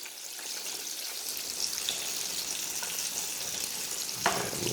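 Sea mullet fry in fresh grease, a steady close hiss and crackle of sizzling oil that holds throughout, with a faint clink near the end.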